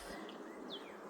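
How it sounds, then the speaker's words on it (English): Honeybees crowd the entrance of a backyard hive while a super is being added in spring, giving a soft, steady insect buzz with a brief high chirp passing over it; no one speaks. "Got a lot of bees at the front door over here."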